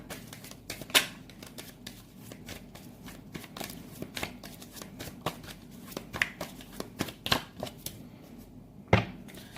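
Tarot cards shuffled by hand, a rapid run of crisp riffling snaps and flicks close up with a few sharper slaps as cards are drawn and set down.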